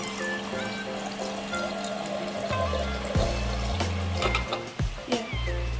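Water dispensing from the door of an LG side-by-side refrigerator, a steady hum followed by pouring and trickling into a container, with a few clicks and clunks nearby.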